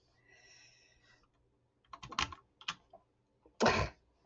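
WASD movement keys on a computer keyboard are pressed for a Roblox game: a few separate bursts of clacky keystrokes, close and fairly quiet, after a faint tonal hum at the start.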